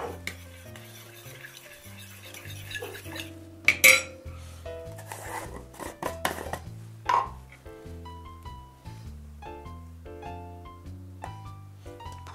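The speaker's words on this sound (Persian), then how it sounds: "اینو کامل هم میزنیم تا یه نواخت بشه" A utensil scrapes and clinks against a bowl as corn dog batter with milk and yogurt is mixed, with occasional sharper taps, over soft background music.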